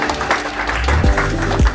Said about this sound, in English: I want to give a big round of applause to Indrek Uusalu, the CEO of Primostar.